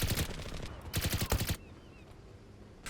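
Rapid automatic gunfire from the online shooter game Zula comes in two loud bursts of quick shots, then a quieter gap before a final shot at the end.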